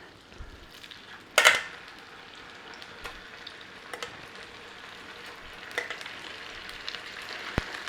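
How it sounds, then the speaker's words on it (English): Steady frying sizzle from beef in oil in a frying pan, with a sharp clatter early on and a few light knocks over the continuous hiss. "It's going to be a straightforward quick sizzle on this beef and out."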